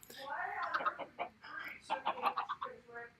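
Chickens clucking in a hen house in a video game, a busy run of close, bubbly clucks and squawks coming in bursts with brief pauses.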